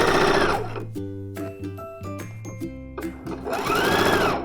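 A sewing machine stitches two coat lining layers together, its motor humming loud and close in a sustained run with shifting pitch, briefly easing and picking up again.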